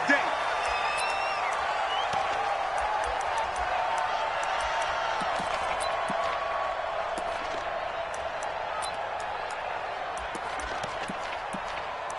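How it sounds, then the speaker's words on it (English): A stadium crowd roars steadily in an NFL football video game between the Colts and the Texans, a dense, continuous wash of cheering that holds at an even level throughout, with scattered sharp pops and claps over the top. "This crowd is ready as their guys get set to match up between the Indianapolis Colts and the Houston Texans."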